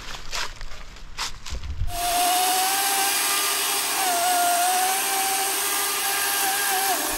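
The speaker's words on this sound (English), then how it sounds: "I'm not sure our really nice DeWalt chainsaw can clear that one." DeWalt chainsaw cutting through a fallen tree on an Ozarks off-road trail, its motor starting after a few knocks and then running loud and steady with a slight wavering pitch, close by.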